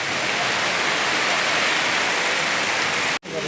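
Heavy rain pours down in a loud, dense, unbroken hiss and patter close by, continuing steadily until an abrupt cut near the end.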